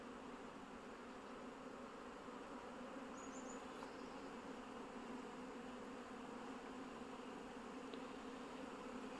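Buckfast honey bees fly in numbers at a hive entrance, making a faint but constant, even hum with no pauses throughout.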